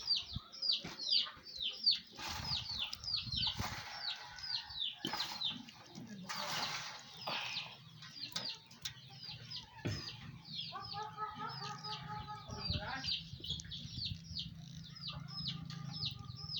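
Chickens cluck and squawk continuously in a busy, overlapping flock, with sharp calls repeating throughout at a moderate distance and a faint murmur of voices underneath.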